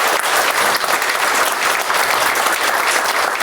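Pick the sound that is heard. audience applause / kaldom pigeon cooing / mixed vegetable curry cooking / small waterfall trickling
audience applause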